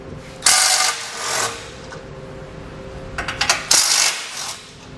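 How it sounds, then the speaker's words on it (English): A 16mm socket wrench removes bolts from a brace on a 2020 Jeep Wrangler. It gives two close bursts of metallic clicking and ratcheting a few seconds apart, with quiet clinks in between. "We're going to use a 16mm socket just to get this out of the way."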